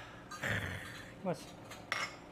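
Ice cubes in a cup clink and knock as freshly pulled espresso is poured over them, with three distinct bright clinks spread across a quiet background.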